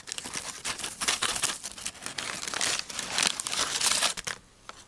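A product is pulled from a crinkly bag, giving a few seconds of close, loud crumpling and rustling that stops near the end.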